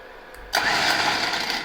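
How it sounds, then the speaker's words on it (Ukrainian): An electric winch powered by 12-volt batteries switches on after a quiet moment, jumping into a steady mid-pitched motor whir that holds for over a second. "О, лебідка вмикнулася, зараз вмикаємо пульт."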